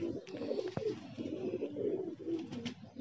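Pigeons coo in low, throaty, repeated phrases, close by, with a few faint clicks and rustles around them.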